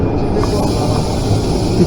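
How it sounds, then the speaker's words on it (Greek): A Pendolino train bound for Porto rumbles steadily at close range, a continuous loud low roar with a faint hiss and no breaks. "Και αυτό το πεντολίνο είναι το τρένο για το Πόρτο."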